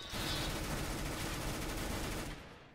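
Rapid continuous gunfire in Counter-Strike: Global Offensive, a dense burst of automatic shots blending into a steady roar that fades out at the end.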